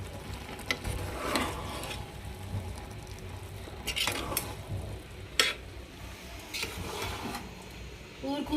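Egg pulao rice being slowly mixed in a cooking pot, with intermittent soft scraping and stirring scrapes at close range, a few sharper knocks among them.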